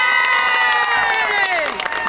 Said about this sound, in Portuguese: Um forte aplauso para o Pedro Lourenço!